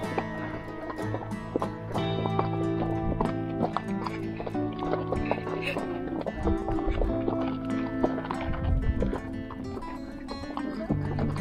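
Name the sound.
horse hooves clip-clopping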